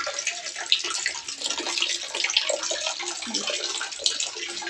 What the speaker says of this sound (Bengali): সর্বদা এই যে চুপচুপ করে জল পড়েই যাচ্ছে চুপচুপ করে